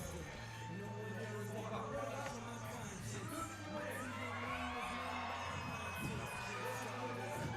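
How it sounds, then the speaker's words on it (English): Kids scream and cheer in a large crowd at a BMX freestyle finals event in Brussels, a steady roar of shouting under a low amplified hum, continuous throughout and fairly distant. "those screams that you're hearing, that's from all the kids that are hyped to get free t-shirts and caps"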